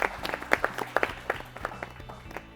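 Applause from a quiz show audience for the Mizoram team, heard as scattered, sparse claps with separate sharp hand smacks over a low hum, thinning out toward the end.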